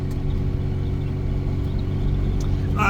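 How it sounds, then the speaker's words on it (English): A Clubman Estate wagon on the road gives a steady low engine rumble and drone from the cabin, continuous and moderately loud, with a brief brighter rattle near the end. "I'm having an absolute blast today driving around in the wagon."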